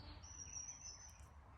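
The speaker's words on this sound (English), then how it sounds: "I heard the birds singing." Birdsong outdoors: a single thin, sustained high whistle-like call stretched over a second, with a brief chirp after it, faint against quiet background hiss.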